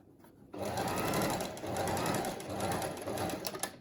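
A sewing machine back stitches on a fabric mask with a close, steady mechanical whir that starts abruptly, dips briefly, then keeps running.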